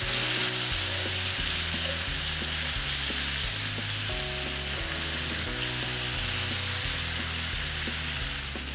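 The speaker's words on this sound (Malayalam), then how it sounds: "നമ്മളുടെ സ്റ്റൗ സെറ്റ് ചെയ്തിരിക്കുന്നത് ഹൈ ഫ്ലെയിമിലാണ്. ഏകദേശം 1 മിനിറ്റ് കഴിയുമ്പോൾ നമ്മളുടെ ചിക്കൻ നമുക്കൊന്ന് മറിച്ചിടാം." Chicken pieces fry on a stove over a high flame, giving a loud, steady sizzle with a crackling, pulsing texture throughout and no talking.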